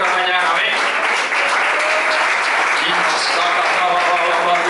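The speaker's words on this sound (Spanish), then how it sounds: "Aplaudan a Cristo en esta mañana, amén." A church congregation applauds loudly and steadily throughout a Sunday morning service, with dense, continuous clapping and faint voices or music mixed underneath.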